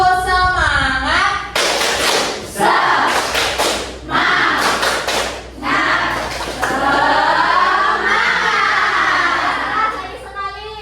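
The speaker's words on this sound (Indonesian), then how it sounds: "Tepuk semangat." A school class performs the rhythmic spirit clap called tepuk semangat, bursts of patterned group clapping between children's chanting voices, loud and close.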